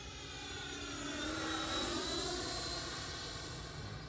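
A radio-controlled sport jet model plane, an E-flite Viper or Freewing Avanti, flies past with a steady ducted-fan whine that swells and shifts in pitch as it passes, loud and continuous, with no talk.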